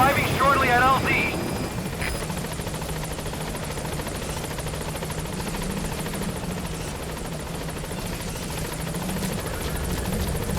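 The Pequod support helicopter in a Metal Gear Solid 5 mission over northern Kabul, Afghanistan, arrives with a loud, continuous rotor thrum and engine whine, and a radio voice is heard over it at the start.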